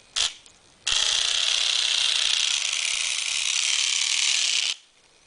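A small battery-powered motor in a homemade prison tattoo gun whirs steadily at close range for about four seconds after a brief short burst, a continuous mechanical buzz, alone with no talk.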